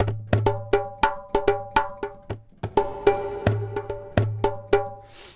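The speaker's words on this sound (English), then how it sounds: "And if we just go back to it without reverb" A simple, basic djembe sample played dry without reverb: a steady rhythmic pattern of close hand strikes alternating deep bass tones and bright, ringing slaps, with short decays between hits.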